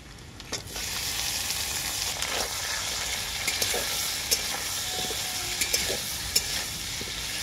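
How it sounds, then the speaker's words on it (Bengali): Chopped tomato is sautéed with potatoes in a pan: a constant close sizzle broken by sharp scraping clicks from stirring, with no voices. "টমেটোটাকেও আলুর সাথে খুব ভালো করে কষিয়ে নেব।"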